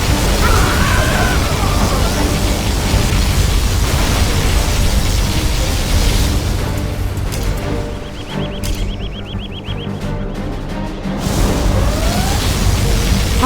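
Particle cannon strike explosions in C&C Generals Zero Hour, a loud sustained roar and rumbling blast noise filling the clip, briefly easing in the middle with a high whine before surging again.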